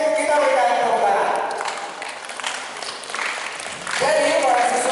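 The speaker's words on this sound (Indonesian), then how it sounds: "kita berikan tepuk tangan" Applause from a gathering at a Christmas 2023 celebration, a crowd clapping loudly at first, easing off in the middle, then swelling again near the end.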